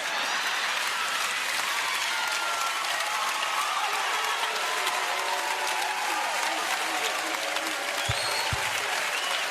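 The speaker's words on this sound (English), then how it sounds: "the audience bursts in thunderous applause" A studio audience breaks into loud, steady applause that holds at an even level throughout, with a brief low thump near the end.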